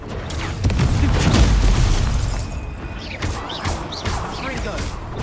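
A Confringo spell blast in the Hogwarts Legacy video game bursts with booming, crashing impacts. Several loud thuds land early, and the noise tails off into lighter clatter under game voices.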